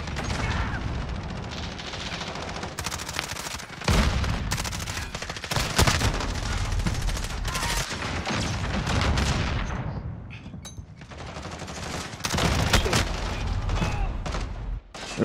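Dense, continuous automatic gunfire from a Call of Duty match on the cramped Shipment map, with bursts of rapid shots stacking into loud fusillades, a brief lull near the end, then heavy firing again.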